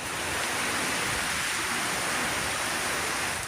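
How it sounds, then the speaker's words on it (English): Heavy rain downpour on the Fraser Coast in Queensland, a loud, steady broadband hiss of pouring water that holds an even intensity throughout with no breaks. "The ferocity of the downpour a surprise."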